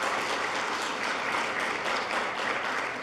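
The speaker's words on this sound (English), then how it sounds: "So let's give them all a round of applause." A conference audience at the ARIN 52 meeting applauds the event sponsors, steady and fairly soft clapping with no voices over it.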